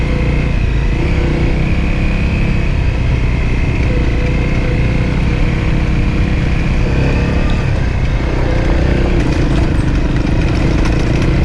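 A dual-sport motorcycle engine roars loudly and continuously while riding the Alpine Loop, with steady droning revs and rushing wind noise throughout.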